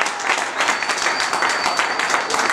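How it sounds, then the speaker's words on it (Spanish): A live concert crowd gives steady, full applause at a Christian rap show, a continuous wash of many hands clapping at moderate distance, with a faint sustained tone above it. "Un aplauso para Jesús"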